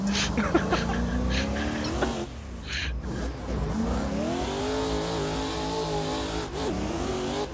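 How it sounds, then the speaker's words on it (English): Racing video game car with a V8 engine, revving and accelerating hard with nitrous boost, tires squealing and skidding, the engine note rising and falling continuously and loud throughout. "Nitrous boost. I got boost."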